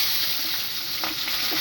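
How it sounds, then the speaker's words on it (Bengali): Diced pumpkin and potato fry in a pan with a steady close sizzle, broken by a few faint stirring touches. "কুমড়ো আর আলু ডুমো ডুমো করে কেটে রেখেছিলাম এগুলিকে একটু ভাজা ভাজা করে নেব।"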